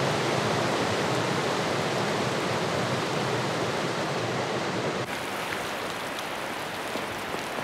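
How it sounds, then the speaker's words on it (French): A powerful river current rushes through a rainforest as a loud, continuous broadband roar of churning water that dips slightly in level partway through and otherwise holds steady, with no voices. "tellement le courant est puissant"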